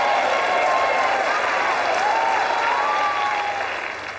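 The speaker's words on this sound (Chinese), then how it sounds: "请大家再次把掌声献给来自伯明翰大学的中国留学生和交谊舞皇" A hall audience applauding at a ballroom dance event, steady dense clapping that holds strong and then begins to fade, with faint voices rising over it.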